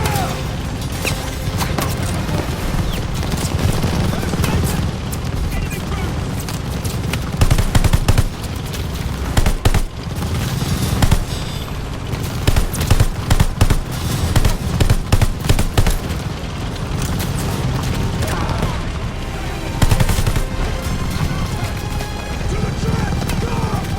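Machine gun fire in the video game Call of Duty: Vanguard, rapid loud bursts and dense battle noise running continuously under shouted voices and heavy combat clamor.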